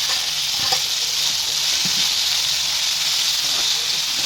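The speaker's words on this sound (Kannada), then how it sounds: "ಇದನ್ನು ಎಣ್ಣೆಯಲ್ಲಿ ಚೆನ್ನಾಗಿ ಫ್ರೈ ಆಗಬೇಕು" Coconut, cumin, pepper, fenugreek, dried chillies, tomato, onion and garlic frying in oil in a pan, a continuous loud crackling sizzle with bright hiss and a few faint taps of stirring, close and steady.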